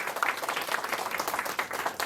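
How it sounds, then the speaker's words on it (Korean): An audience claps in applause for a school's second-grade homeroom teachers at a school information session, a dense, steady patter of many hands close by and continuing throughout. "우리 2학년을 책임지고 지도해 주실 2학년 담임 7분의 선생님에게 큰 격려의 박수 부탁드립니다"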